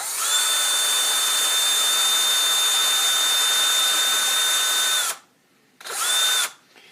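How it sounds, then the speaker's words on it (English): A small rotary drum sander sands a stunt helmet with a loud, steady high whine for about five seconds, stops, then spins up again for one short burst. "And so I'm just going to barely sand right in here where it was hitting."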